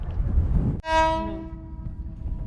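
A loud, sustained train horn blares close by after a rumbling start on an Ottoman-era train in Jordan, then fades out over about a second, leaving low mechanical noise.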